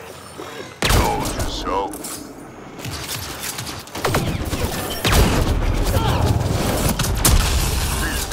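Loud bursts of gunfire erupt in a game combat scene, with dense rapid shots and booms sustained over several seconds while someone speaks briefly over the noise.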